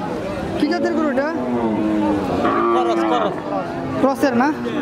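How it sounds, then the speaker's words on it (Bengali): Cows at a cattle market moo repeatedly and loudly at close range, drawn-out calls overlapping with crowd chatter and nearby talk. "কি জাতের গরুটা?"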